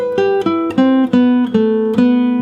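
Jazz chord melody of the second line of a song on guitar, played nice and slow as a sequence of about seven ringing chords struck one after another, each sustaining into the next, close and clear with no talking.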